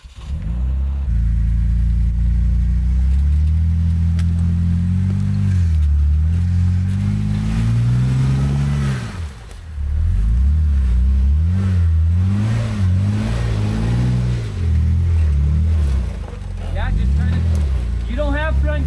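An off-road vehicle engine revs hard while climbing a rough trail without front dig, a loud rising and falling roar that dips briefly mid-way before surging again, with people talking over it.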